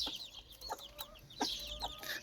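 A broody gray Ataks hen clucks in low, scattered bursts, with soft chirps and twittering of other birds in the background.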